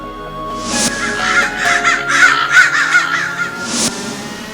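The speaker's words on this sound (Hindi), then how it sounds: "हाँ काले कौवे" A cartoon crow caws loudly and close up, a harsh series of repeated caws running one into the next, with short separate bursts at the start and the end.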